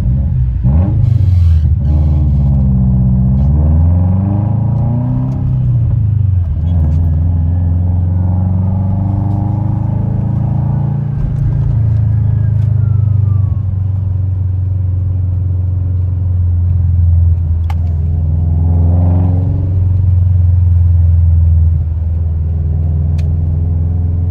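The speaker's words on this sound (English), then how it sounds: "how these Tomei unequal length headers sound paired with my full NVIDIA exhaust" A car fitted with Tomei unequal-length headers and a full aftermarket exhaust revs repeatedly, close and loud: a deep, lumpy rumble rising and falling through several throttle blips over a steady idle.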